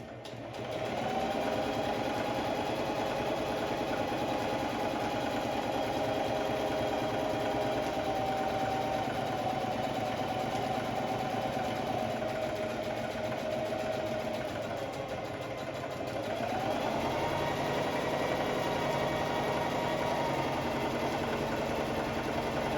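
Sewing machine stitching a fabric band, motor running steadily with a continuous whirring hum for most of the clip, briefly dipping then speeding up again, close and fairly loud with no talk.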